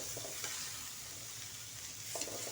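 Pumpkin greens, the tender vines and leaves of a home-grown sweet pumpkin plant, fry on an electric heater with a soft, steady sizzle and a few faint stirring scrapes, all low and quiet.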